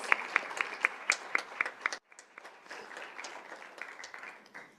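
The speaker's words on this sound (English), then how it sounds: "Let's give them one more round of applause." Audience applause at a school governing board meeting: crisp, closely spaced handclaps from a modest crowd, briefly cut off midway and then resuming as a softer, steadier patter.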